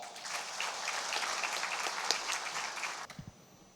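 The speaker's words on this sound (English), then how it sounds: "another warm round of applause for this visionary leader" An audience at a Golden Jubilee school celebration applauds, a dense, fairly distant wash of clapping that holds steadily before tapering off.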